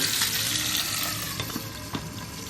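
Lady fish sizzles steadily in a covered pan over medium heat, a close, continuous frying hiss with a few soft pops and no voices.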